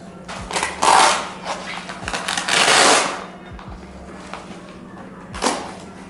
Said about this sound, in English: So I'm just gonna undo the Velcro.